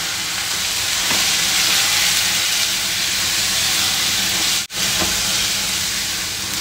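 Shredded cabbage and tomato sizzle loudly in a hot pan with oil and spices for a paneer curry, a steady hissing fry that drops out for an instant midway and then continues.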